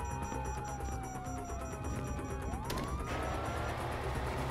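A police siren in GTA 5 wails with sliding pitch, dropping then rising again over a low engine rumble and background noise.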